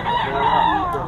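A rooster crowing among chickens at a busy Philippine pet market in Bocaue, one sustained loud call filling the short moment over crowd noise.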